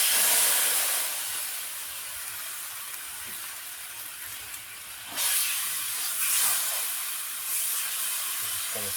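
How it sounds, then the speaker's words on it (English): Beef lo mein sauce from a skillet meal kit simmers in a hot skillet with a continuous, fairly loud hiss like steam, swelling briefly midway with faint scraping underneath. "Just going to simmer this down a little bit."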